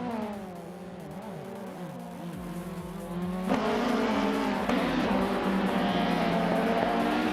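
A 1986 Alfa Romeo 75 racing in a video game, its engine droning steadily then surging louder as it accelerates, with gear shifts and other cars close by.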